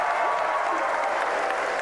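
A crowd claps and cheers continuously during a Starship rocket launch broadcast, a dense, even wash of applause lasting the whole moment.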